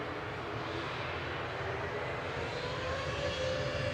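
A Hainan airliner taxis out at Manchester Airport, its jet engines producing a steady, moderately distant roar with a faint rising whine, no voices over it.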